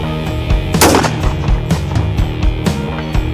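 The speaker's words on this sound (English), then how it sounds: "Got a target out there at 300, so I'm just going to shoot offhand." Sharp, loud, close rifle reports from a Marlin 1895GBL lever-action in .45-70 Government, fired offhand at a steel gong 300 yards away, with several quick cracks and echoing booms in succession.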